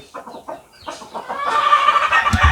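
Chickens cluck at a gamefowl farm, a run of short close clucks early on, then a denser, louder burst of fowl calls and farmyard noise toward the end.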